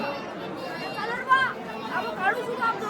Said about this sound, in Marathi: फुल गर्दी आहे, फुल गर्दी आहे.